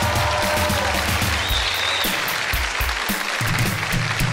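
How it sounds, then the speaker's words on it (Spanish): Studio audience on a Colombian television talk show applauding a cycling champion, winner of Paris-Nice: continuous close clapping that stays loud throughout, with low murmurs and shuffling underneath. "Un aplauso para él por esto."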